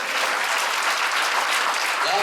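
Loud, vigorous clapping from a church congregation during a sermon, a dense unbroken roar of hands that stays strong throughout, with a brief voice surfacing near the end.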